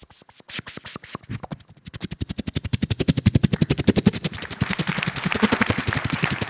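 A performer's voice mimics a helicopter flying overhead with a rapid rhythmic chopping pulse that starts sparse and quickens into a steady loud thudding, growing noisier and denser toward the end.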